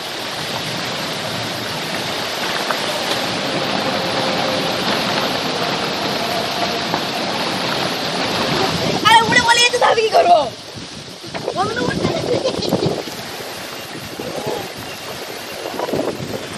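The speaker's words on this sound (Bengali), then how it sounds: "যেখানে ঝোড়ো হাওয়ার সঙ্গে বৃষ্টি" Stormy wind drives rain in Ghatal, West Medinipur, making a steady, loud broadband roar and rush that swells briefly midway, while a reporter's voice speaks over it.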